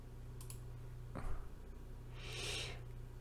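Faint clicks from a computer keyboard on a Windows 11 machine, a few quiet taps and one sharper thump over a steady low hum, with a soft hiss near the end.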